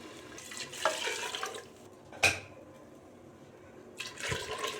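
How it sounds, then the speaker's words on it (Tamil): Water poured into a cooking pot while making ghee rice, heard as a short, close splash in the middle with softer running-water bursts before and after in a quiet kitchen. "1 கப்பு தண்ணி சேர்த்தாச்சு."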